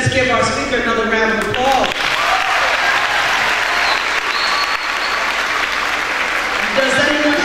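An audience at a Girl Power Summit applauds a speaker with a sustained, dense round of clapping from a crowd that fills the room, preceded briefly by a voice at a microphone.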